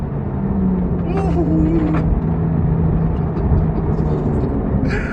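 Porsche 911 Carrera T with a 3-litre twin-turbocharged flat-six, 365 horsepower, braking hard in a straight line on track: a steady, loud engine rumble and whir fill the cabin while a driver gives a brief exclamation.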